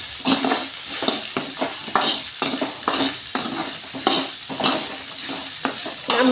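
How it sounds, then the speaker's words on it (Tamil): Bitter gourd sautéing in a pan for a kuzhambu, loud close sizzling broken by rhythmic scraping stirs roughly every half second, with no voices. "பாவக்காய் வதங்கிட்டுருக்கு"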